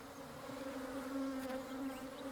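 Bees hum steadily at a bee fence built to keep elephants from crops, a continuous, even drone that holds at a constant level with no talk.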